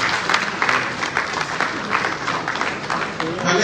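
An audience applauds and cheers at an event, sustained loud clapping with scattered shouts throughout.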